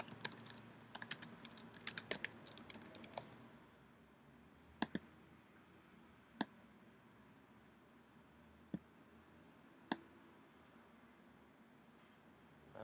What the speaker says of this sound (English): Let's type the text in first before we move it.